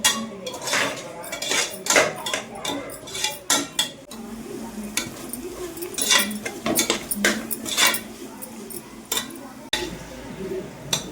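Chicken biryani masala with chilli powder being sautéed in a pot, a metal spoon clattering and scraping against the vessel in quick irregular strokes, with soft sizzling and a voice talking underneath.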